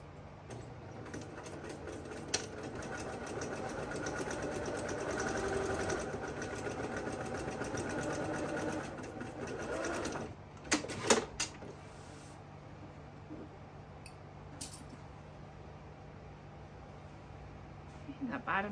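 A sewing machine runs a steady stitch along the bottom seam of a fusible fleece fabric basket, a continuous mechanical whir for about ten seconds before stopping, followed by a few handling clicks and quiet room noise.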